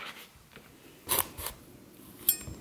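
A sharp knife slices through a thick, tough piece of food in a kitchen, giving a few short, close crunching cuts with brief pauses between strokes.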